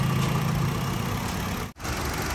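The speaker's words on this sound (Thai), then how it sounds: "สตาร์ทเครื่องไว้สักพักนึงนะฮะ" A Honda City car engine idles to warm up, a steady low hum with a brief dip near the end.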